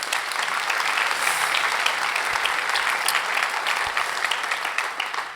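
A conference audience gives a full round of applause, a thick, continuous patter of many hands clapping with a few sharper claps standing out, steady and fairly loud until the end.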